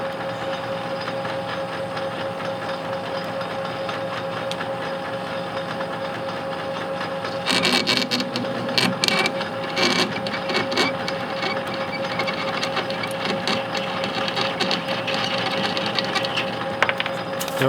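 A metal lathe turning at about 270 RPM parts off a workpiece, with a steady mechanical whine and hum, then a burst of harsh chattering, clattering cutting noise near the end.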